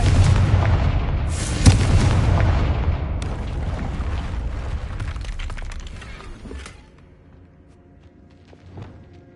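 A Confringo spell explosion in Hogwarts Legacy bursts with a loud, close boom and shattering crash that rumbles and slowly fades into quiet, followed by a faint later thud.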